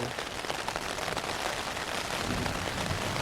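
Heavy rain pelts a tent on a mountain campsite, a dense, steady patter of drops hitting the fabric close by, with no voices.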